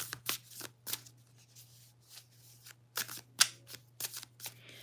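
Cards being shuffled in short separate bursts of crisp riffling, each set apart by brief quiet gaps, close and fairly clear over a low steady hum, with no voice.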